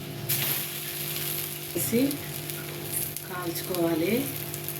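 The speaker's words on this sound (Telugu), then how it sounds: "పెనం పెట్టి హీట్ చేశాను అనమాట. అలా వేసి కాల్చుకోవాలి." Wheat-flour bobbattu flatbread roasts on a heated griddle with a low, even sizzle and a few light clinks, while a voice talks briefly over it.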